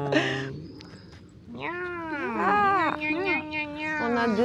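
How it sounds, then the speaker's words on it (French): A small cat meows repeatedly indoors in a French countryside house, several rising and falling cries close by, with people talking around it. "un petit chat"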